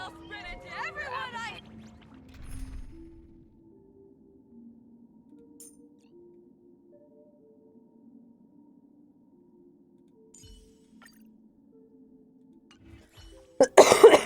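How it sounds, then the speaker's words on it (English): A person coughs in a few throaty bursts, with a faint rasp early on, then a long, quiet stretch with a low hum before a loud, close cluster of harsh coughs at the end. "I still do have a little bit of a cough."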